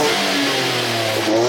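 A truck revs hard through a freshly installed Street Series cat-back exhaust, its engine note climbing and falling in a loud, close, steady roar that swells near the end.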